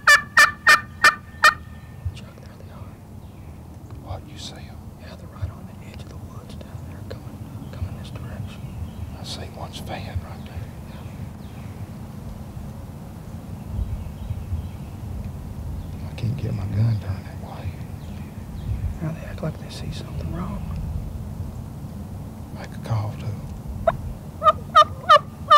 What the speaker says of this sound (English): these gobblers are acting funny